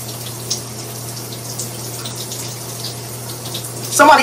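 Water runs continuously at close range in a shower, giving an even, rushing spray with a steady low hum beneath it and a brief louder gush at the very end, and no one speaks.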